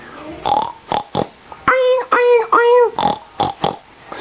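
Short snuffling grunts from a pig build into three drawn-out nasal oinks in a row, then a few more quick grunts, close up and loud.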